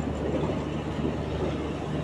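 Puri–Shalimar Garib Rath train running into Khurda Road Junction, a steady loud rumble of wheels and carriages with a low engine drone, continuous and close throughout.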